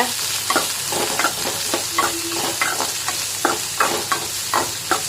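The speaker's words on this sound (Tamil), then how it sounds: "கட் பண்ணி வச்சுருக்கிற பச்சை மிளகா கேரட்டு பீன்ஸ் அதையும் இதில் ஆட் பண்ணிக்கோங்க அதையும் நல்லா வதக்கி விடுங்க" Vegetables, including beans, sizzle in a pan for oats upma while a utensil scrapes and stirs in irregular strokes, a steady frying hiss underneath.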